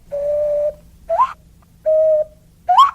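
A person hand whistling in imitation of bird calls produces two steady, pure-toned hoots, each followed by a short rising warble, close and clear over a quiet background.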